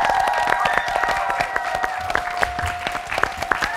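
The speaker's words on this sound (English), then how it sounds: "a round of applause" An elementary school audience at a kids' TV quiz show breaks into loud, dense applause with some crowd noise, steady throughout with sharp individual claps standing out.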